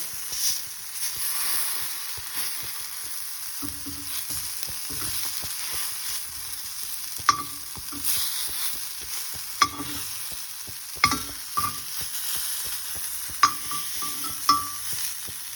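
Spicy marinated tilapia fries in a pan with a steady broad sizzle and hiss, broken by a few sharp clinks and stirring knocks of a utensil; no voices.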